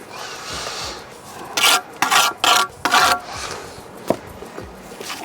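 A mortar joint on a brick wall is rubbed down in a series of four quick, loud rasping strokes close by, followed by a single tap and quieter scraping.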